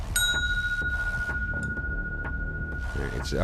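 A heavy brass mortar and pestle of about five pounds rings out with a clear, sustained bell-like tone after being struck, the note holding steady for several seconds over low room noise and soft handling sounds.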